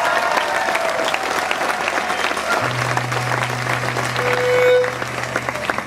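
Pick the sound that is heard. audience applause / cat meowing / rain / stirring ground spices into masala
audience applause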